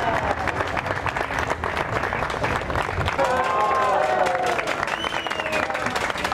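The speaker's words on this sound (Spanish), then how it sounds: "Un aplauso para ellos." Audience applause for traditional son musicians honoured at a medal ceremony in the port of Veracruz, steady and full throughout, with voices and some tonal sounds rising over the clapping midway.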